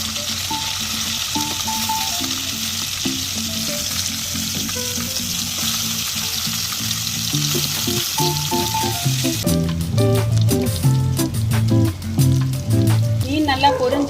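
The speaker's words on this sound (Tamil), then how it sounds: "மீன் நல்லா பொரிஞ்சாச்சு." White snapper fish frying in hot oil, a steady loud sizzle throughout with clattering spatula or pan knocks growing busier in the second half, and low background music running underneath.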